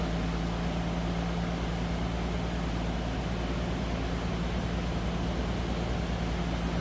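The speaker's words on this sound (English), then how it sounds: "Sounds like you'd expect an inline 6-cylinder sound." A 1975 AMC Matador sedan's inline six-cylinder engine idles steadily and unbroken, droning with a low, even hum and broad rushing noise for the whole stretch; no talking.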